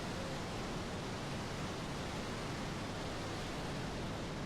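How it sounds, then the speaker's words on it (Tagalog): Balon-Balon Falls in Cavinti, Laguna pours as a steady, dense, broadband roar of falling water, constant and unbroken throughout. "Pakita ko naman sa inyo ang kabuuan ng Balon-Balon Falls from left to right"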